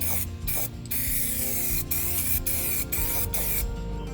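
An aerosol can sprays heat-proof paint in long, steady, loud hissing bursts, close to the listener, broken by a few brief pauses between passes.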